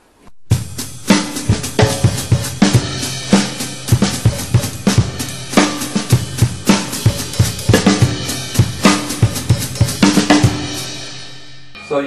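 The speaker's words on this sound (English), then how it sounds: "hit the right hi-hat at the same time as it's opening, and then it'll quickly close for that next 16th note" Loud, close drum kit groove with barking open hi-hats on 16th notes, each hat opening briefly and snapping shut over a kick and snare pattern, played alone without talking.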